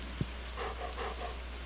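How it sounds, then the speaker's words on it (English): Light rain falls in the farming video game Stardew Valley as a faint, soft patter over a low steady hum, with one brief tap near the start and no talk. "Oh, it is raining."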